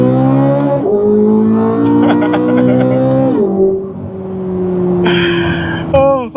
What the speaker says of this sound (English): A quick pull from second gear.